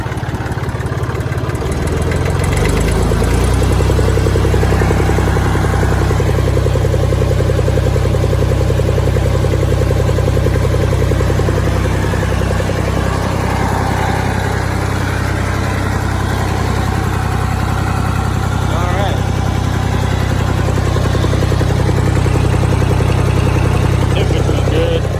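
A Ford Super Dexta tractor's diesel engine runs steadily close by, a loud continuous low chugging rumble with clattery mechanical texture that holds throughout with no pauses.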